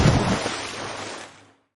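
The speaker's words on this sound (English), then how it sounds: "That was the sound of splashing water." A sudden splash of water, a single loud burst that churns briefly and fades out within about a second and a half, alone with no voices.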